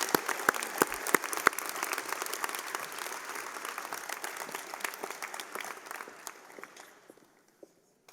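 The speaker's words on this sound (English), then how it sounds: "One more round of applause for all of our award winners." A high school graduation audience applauds the award winners in a sustained round of clapping that fills a large hall, with a few sharp nearby claps early on before the applause thins out and fades to near silence.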